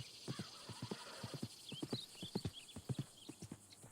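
A horse's hooves clip-clop in a steady, fairly quick walking rhythm on the trail in Red Dead Redemption 2, with a brief whinny woven in, all heard faintly at a distance.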